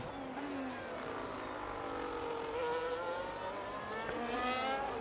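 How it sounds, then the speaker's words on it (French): A race car crosses the finish line out of the last corner at full throttle, giving a steady, high, whining engine note with rising harmonics, heard at a moderate distance. "Il arrive pied au plancher."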